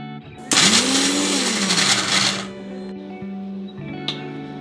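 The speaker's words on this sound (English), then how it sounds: "Take small mixer jar and add the sauce ingredient." A small mixer grinder jar whirs to life blending pizza sauce ingredients, its motor pitch rising and then sliding down over about two seconds before settling into a lower hum and stopping, with a sharp click near the end.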